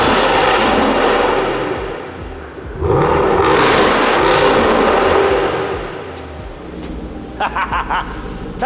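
A V8 Land Rover Defender with valved exhaust in dynamic mode revs hard nearby, loud roaring bursts with crackling pops, dropping briefly between surges, with sharp backfire-like cracks near the end.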